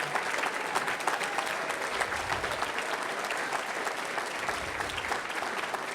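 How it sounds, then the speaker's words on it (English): Sustained applause from a gala audience honoring Air Force veterans, a steady dense wash of many hands clapping at moderate level for the full stretch, with no voices on top. "Let's give them a round of applause."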